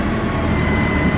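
A steady, loud engine drone from an LS XR4145 tractor held at about 1,500 RPM, a continuous broadband rumble with no pauses and no voices.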